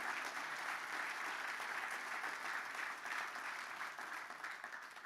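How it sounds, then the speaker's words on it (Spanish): Sustained congregational applause rings through a church, a continuous crowd of clapping hands heard at moderate distance, holding steady before easing slightly toward the end. "Dele fuerte el aplauso al Señor."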